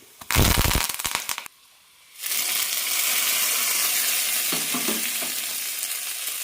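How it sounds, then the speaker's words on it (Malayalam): Urad dal and curry leaves drop into hot oil for tempering a chutney, with a sharp, loud burst of crackling spatter that cuts off briefly and then settles into a steady sizzle. "ഒരു കാൽ ടീസ്പൂൺ ഉഴുന്നാണ് ഇടുന്നത് കൂടെ തന്നെ കറിവേപ്പിലയും ഇടാം"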